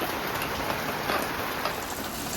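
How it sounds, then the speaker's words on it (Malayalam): Moderate rain falls steadily at home, a dense, even patter of drops on surfaces that stays constant and fairly close throughout. "സൂപ്പർ മഴ"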